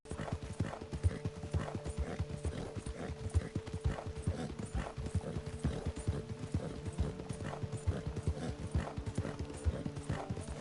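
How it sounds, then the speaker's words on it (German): Horse hooves trot in a steady, even clip-clop rhythm while riding in the video game Red Dead Online, continuing regularly for the whole stretch at moderate loudness with a faint background tone. "Dann reiten wir mal nach Tall Trees."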